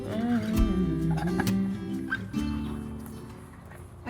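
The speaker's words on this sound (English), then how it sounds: "I've let chickens out" Chickens clucking and calling close by outside a backyard coop, several overlapping birds with short throaty notes and rising calls over light outdoor background noise.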